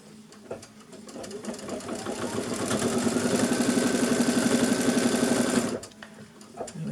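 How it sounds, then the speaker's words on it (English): A sewing machine stitches a straight line, starting after a few faint clicks, then running steadily and fairly loud with a fast, even mechanical chatter for about three seconds before stopping abruptly. "we just flatten that out of the way and stitch the straight line."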